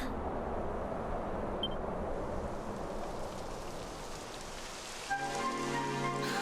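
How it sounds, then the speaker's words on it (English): Steady rain pours in the video game Dragon Quest XI S, a dense continuous hiss throughout, giving way near the end to a brief musical tone. "It would have to go and start raining, wouldn't it?"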